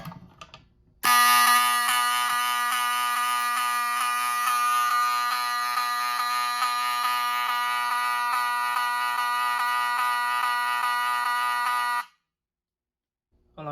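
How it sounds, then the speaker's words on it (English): A Fire-Lite STH7224 horn strobe, a rebranded Wheelock 7002, sounds a loud, steady continuous horn tone for about eleven seconds, then cuts off abruptly. "For the notification appliance, we have a Fire-Lite STH7224 horn strobe, which is a rebranded Wheelock 7002"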